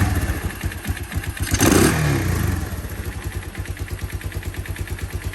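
A Yamaha DX motorcycle fitted with a new Chinese carburetor idles with a loud, rapid, regular putter, swelling briefly in a short rev before settling back to a steady close idle, with no talking.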